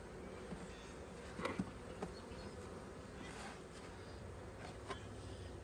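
Honeybees buzz around an open hive box in spring, a steady soft drone with a few brief closer passes, heard outdoors and without speech.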